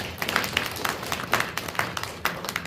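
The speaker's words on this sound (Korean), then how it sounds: "격려의 박수 해주셨습니다." Church congregation clapping in encouragement after a solo praise dance at a Sunday service; a brief burst of scattered, moderately distant applause, steady with irregular claps standing out.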